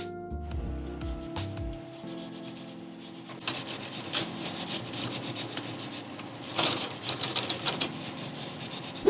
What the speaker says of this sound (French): on va prendre chaque bout de chaîne et frotter généreusement avec la brosse spécifique